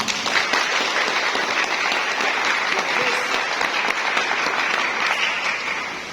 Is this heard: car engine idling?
no